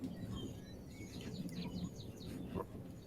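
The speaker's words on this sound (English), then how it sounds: "birdies chirping" Recorded birdsong sound effect played during an online tabletop role-playing session: faint, quick chirps and tweets over a steady background hum, clustered in the middle of the short stretch.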